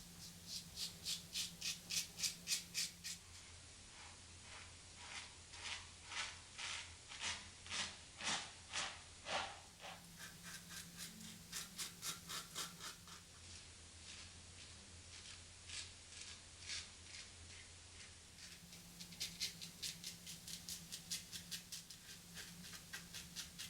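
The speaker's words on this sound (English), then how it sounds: "Third pass against the grain with the Gillette Vintage Blue Tip." A Gillette Vintage Blue Tip safety razor shaves against the grain, making rhythmic scratchy strokes close up. The strokes come in repeated bursts, with short pauses and a faint hum between them.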